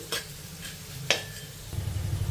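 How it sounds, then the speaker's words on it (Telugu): Mustard seeds, urad dal, chana dal and a little cumin fry in hot oil for a tempering, giving a soft sizzle with a few sharp stirring clinks and pops, close and quiet, without talk. "ఇప్పుడు ఈ పోపు దినుసుల్ని వేగనివ్వాలి"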